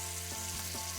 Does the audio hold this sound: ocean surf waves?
no